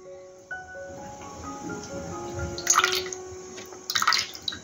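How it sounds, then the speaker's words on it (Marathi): Thick colostrum milk, half a litre, poured from a cut milk pouch into a mixing bowl in a home kitchen for kharvas, giving soft splashy pouring bursts in two short spells, close and alone. "त्याच्यामध्ये मी ओतून घेते सगळं मिक्स करण्यासाठी"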